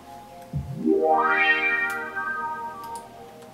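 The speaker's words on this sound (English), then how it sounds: "bringing this warped instrument effect." A warped, distorted synth-like tone swoops upward in pitch from a low growl to a high whine, then holds, wobbling and buzzing, with no voices.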